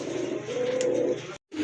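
A Rampuri pigeon coos in a low, steady murmur close by, with one brief gap near the end before the cooing resumes.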